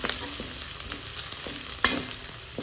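Shallots and garlic sizzle steadily in hot oil in a pan, with a spatula scraping and stirring in quick strokes over the constant frying hiss.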